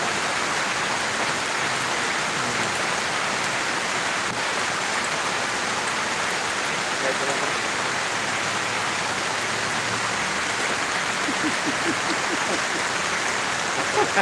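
Heavy rain pouring down in a steady, dense hiss that fills the whole stretch without a break, loud and close, with faint voices now and then beneath the downpour.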